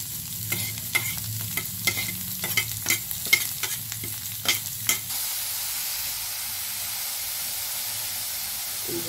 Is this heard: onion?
yes